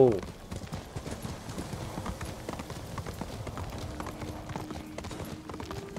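A horse gallops in the video game Ghost of Tsushima, with rapid continuous hoofbeats over a low rumble. Someone talks over part of it, and a brief whinny may come near the start.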